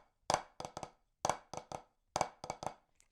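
Sharp, close taps on a drum practice pad in three short groups, each hit slightly smeared or doubled as flammed strokes, played alone with no voices.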